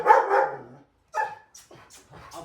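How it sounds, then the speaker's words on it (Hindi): A 1.5-year-old Labrador and a 2-month-old German Shepherd puppy bark indoors, one loud close bark followed by several shorter, softer yips and barks in an uneven sequence. "उसे भौंक रहा है।"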